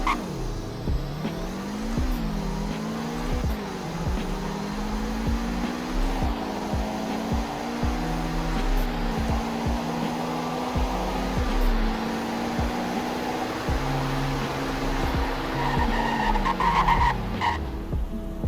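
Car in the Roblox game Greenville accelerating during a speed test, a steady engine tone climbing through several gear changes over about eighteen seconds, with tire noise and a drop at the end.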